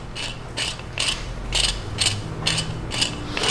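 A threaded cap on an HDM 1050 Protector is unscrewed, producing a series of about eight crisp ratcheting clicks in a steady rhythm, close and alone.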